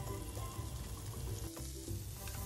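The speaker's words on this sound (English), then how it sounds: "we will fry the onions until they turn golden brown and translucent" Thinly sliced onions frying in oil in a karhai for an Indian catfish curry, a steady dense sizzle with faint stirring, close and continuous, no speech.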